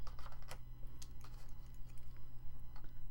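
Paper being cut for a layered paper craft, a run of quick crisp snips and ticks over a steady low hum, fairly close and moderately quiet, with no voices.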